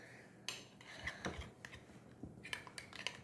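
Slime being stirred and shaken inside a closed container, giving a string of short scraping, knocking and squelching bursts up close, with no one talking.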